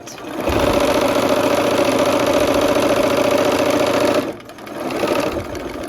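A sewing machine runs loud and steady at close range, stitching pinned fabric for about four seconds, then slows and stops with a short restart.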